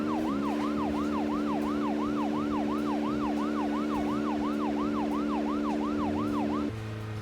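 Police siren boost in Deadly Premonition, a loud continuous wailing whoop cycling rapidly and steadily over an engine drone, stopping abruptly near the end.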